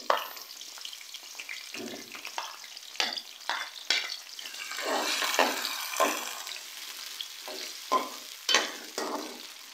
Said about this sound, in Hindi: प्याज का कलर जो है हम लोग लाइट ब्राउन होने तक इसे हम फ्राई करेंगे